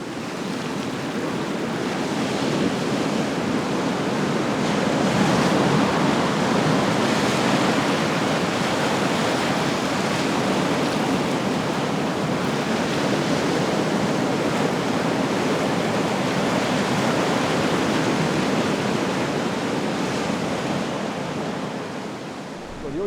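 Waves crash steadily on the Irish coastline, a dense, continuous roar of surf with wind mixed in, loud and unbroken throughout with no distinct breaks between breakers.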